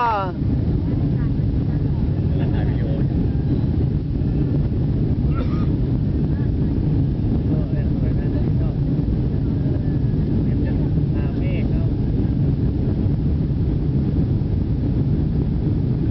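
A passenger airliner climbs after takeoff from Tokyo, a steady low engine drone and rushing wind noise heard from inside the cabin throughout, with someone narrating over it.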